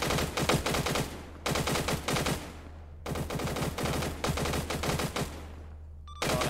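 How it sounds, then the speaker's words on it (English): Machine gun fire in the video game ArmA 3, long rapid automatic bursts with a brief pause between them, loud and close with a deep low rumble underneath. "Machine gun, machine gun. MG only."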